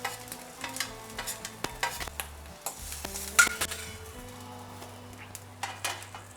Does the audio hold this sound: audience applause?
no